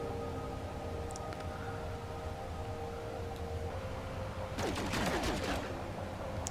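Gunfire from a weapon in the space exploration game No Man's Sky, a loud burst of rapid crackling shots near the end over a steady droning ambient hum, with no talking.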